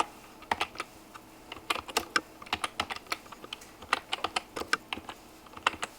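Fingers tap out quick bursts of keystrokes on a computer keyboard, close and crisp, with short pauses between the clusters of clicks.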